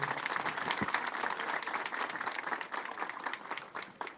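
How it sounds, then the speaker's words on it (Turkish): Audience applauding at an opening ceremony for new municipal service vehicles in Kocaeli, a steady dense clapping that carries on for the whole stretch without a break. "Alkışlıyoruz onları."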